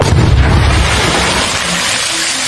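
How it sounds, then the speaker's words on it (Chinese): A Russian Tsar 10000 match firecracker exploding in water, a loud, close blast followed by a roaring, churning wash of spray that fades slowly over a couple of seconds. "可以说这是非常标准的爆炸，水花和烟雾都很漂亮。"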